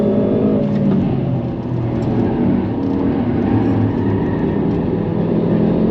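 A Lotus Emira sports car passes on the Nürburgring, heard from inside another car as a loud, continuous engine roar and road rush close by, without talk.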